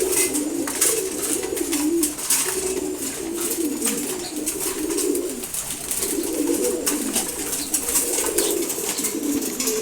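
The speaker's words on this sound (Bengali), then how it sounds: "এখানে আরো কিছু কবুতর আছে।" Pigeons coo repeatedly in low throaty rolling phrases while being fed in the morning, with faint pecking and scratching clicks scattered throughout at close range.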